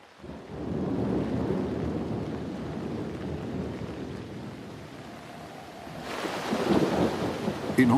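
Torrential rain falls in a continuous roar, with deep rumbling thunder rolling underneath. The downpour surges louder and brighter toward the end, and no voices are heard.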